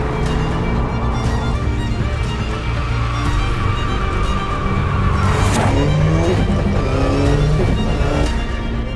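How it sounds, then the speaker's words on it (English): A 2022 Subaru BRZ sports coupe is driven hard, its engine revving loudly while the tires squeal and skid. The sound is close and continuous, with no talking. "The all-new 2022 Subaru BRZ."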